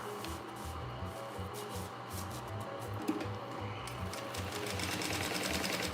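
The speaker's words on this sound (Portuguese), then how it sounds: "Vou fazer um pesponto aqui, para ele assentar nessa posição, e vou fazer aqui, ó, uma costurinha em toda a volta, prendendo no meu forro" Sewing machine running steadily as it topstitches all the way around a fabric lining on a baby pouch with a clear window, using a longer stitch length, a continuous close mechanical whir with no voices.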